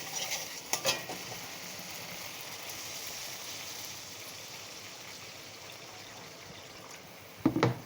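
Water poured into masala frying in a pan for a potol posto curry: a loud, steady sizzling hiss that runs for several seconds under a short splash and a clatter at the end.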